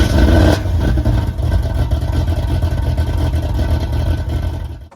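A modified 1981 Chevrolet Corvette engine with a higher flow exhaust rumbles loud and close, a deep steady burble after a brief initial rev, then cuts off abruptly at the end.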